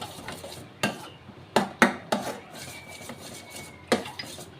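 Almond halwa stirred in a pan over a medium flame makes scraping, rubbing strokes with sharp knocks of the utensil against the pan, irregular and close, with no voices.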